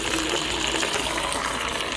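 Coolant from a BMW E90 pours out of the drain plug into a bucket as a steady, continuous gushing splash, close and unbroken.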